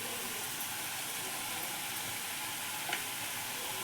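A green chilli and garlic masala paste for masala dosa sizzles and fries in a hot pan, a steady close hiss with a brief clink near the end.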